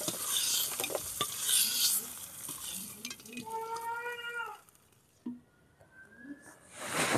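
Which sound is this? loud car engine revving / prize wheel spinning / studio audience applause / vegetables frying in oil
vegetables frying in oil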